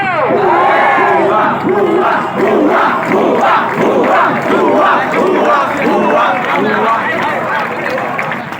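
A large crowd of HSC students protesting against the diploma quota at Zero Point in Rajshahi chants a slogan in loud, rhythmic unison, a dense roar of voices pulsing steadily and close throughout.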